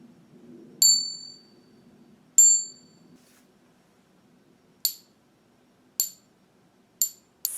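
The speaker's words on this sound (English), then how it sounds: "they do say that jade which has been treated does not have that clear ringing bell sound" A jade bangle tapped and struck, giving six bright, clear bell-like rings. The first two ring on with long decays and the later four are shorter, sharper pings, close and isolated against a quiet background.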